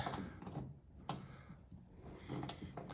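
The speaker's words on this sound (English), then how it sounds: "I'm just using a little short ratchet here, get on that bolt, hopefully it's not too tight, and turn it" A short ratchet turning a bolt on a John Deere 2510 tractor during valve adjustment, giving a few soft, close clicks at an uneven pace over faint background noise.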